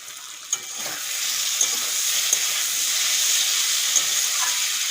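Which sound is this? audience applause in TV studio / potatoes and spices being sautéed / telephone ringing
potatoes and spices being sautéed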